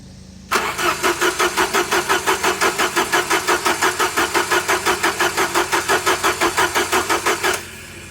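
A car engine cranks for about seven seconds without starting, its starter producing a loud, even rhythmic chug that stops abruptly. The no-start is put down to a failed ECU giving no spark.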